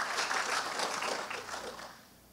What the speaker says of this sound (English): Somebody give the Lord a clap